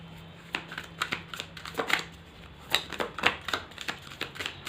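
Tarot cards being shuffled produce a series of soft, crisp riffling snaps and flicks in irregular bursts, close and fairly quiet against a faint background hum.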